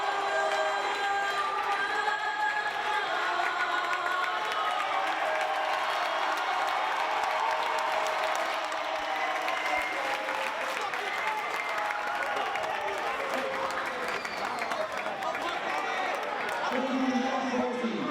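Near-capacity high school gymnasium crowd before a quarterfinal basketball game cheers and claps continuously, a broad wash of voices and applause with a voice talking over it.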